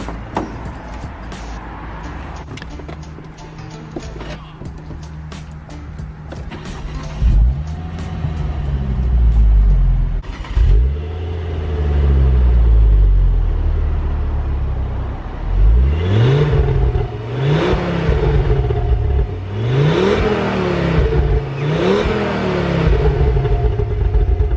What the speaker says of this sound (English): So we'll jump in the car and we're going to go on a little bit of a drive.